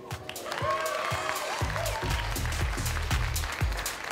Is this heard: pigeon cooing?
no